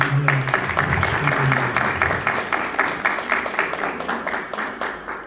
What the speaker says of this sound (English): Can we give them one more round of applause?